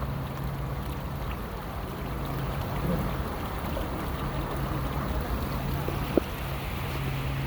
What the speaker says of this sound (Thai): น้ำไหลออกมาจากนั้นนะ